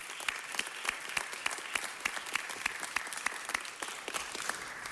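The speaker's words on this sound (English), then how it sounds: "Let's give them all a big round of applause." An audience gives a steady round of applause in a hall, dense clapping continuing evenly throughout at moderate distance with no voices.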